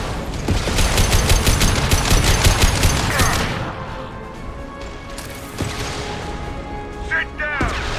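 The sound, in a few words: high-impact weapon shot and gunfire in video game Mass Effect 2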